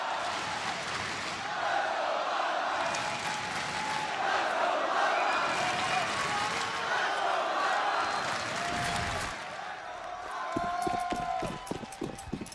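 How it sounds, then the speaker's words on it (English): A large arena crowd at a Counter-Strike major grand final in Boston roars and cheers in a loud, sustained wave that holds steady for several seconds before thinning out near the end. "Listen to this crowd!"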